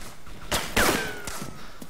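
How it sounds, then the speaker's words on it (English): A few sharp gunshots crack in quick succession in the game DayZ, fairly loud and close, with short gaps between them. "Where's the gunfire coming from?"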